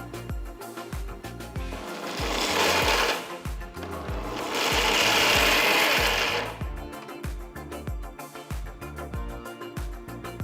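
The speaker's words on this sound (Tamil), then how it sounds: "ஆறுனதும் ஒரு மிக்சர் ஜாரில் போட்டு கொரகொரப்பாக அரைச்சிக்கலாம்." Roasted, cooled peanuts coarsely ground in a mixer grinder jar: two loud whirring bursts of the motor, a few seconds each, separated by a pause, with rhythmic knocking and handling sounds around them.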